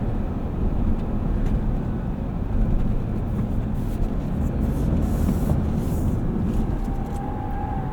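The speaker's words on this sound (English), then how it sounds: "Still a little bit of complaining from the tires, but not too bad." A steady low road roar with tire hum fills the cabin of a 2024 Toyota Land Cruiser Premium Package on the move, constant and moderately loud with no voices.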